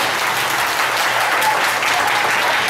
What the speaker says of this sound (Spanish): Y aplausos para mi amiga.